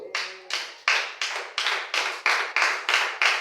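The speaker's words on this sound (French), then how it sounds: "Si tu vas récupérer, acclame Jésus-Christ" A church congregation claps in a steady rhythm, about ten crisp, even claps in quick succession, close and clear with no talking.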